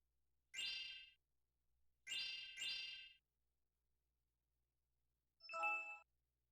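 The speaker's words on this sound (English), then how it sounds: "why am I getting all these notifications?" Phone notification chimes going off with Do Not Disturb left on: three bright ding-like tones, two of them in quick succession, then a different, shorter chime after a pause, all clear and close with no talking.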